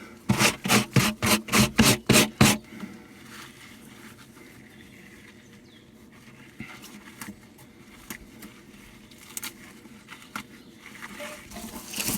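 A hollow wooden log beehive being scraped out by hand: eight loud, evenly spaced rasping strokes in quick succession, then a longer stretch of fainter, irregular scraping and rubbing against the wood.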